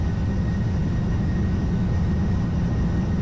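Aircraft engines roar loud and steady through a takeoff roll on a Krakow to Birmingham flight, a dense low rumble filling the cabin without a break and no voices over it.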